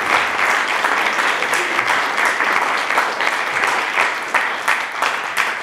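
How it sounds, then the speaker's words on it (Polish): Sustained, dense clapping from a large audience at a debate, steady and loud throughout with no break, like a hall applauding at length. "Pan Andrzej Sadowski, jeszcze raz wielkie brawa."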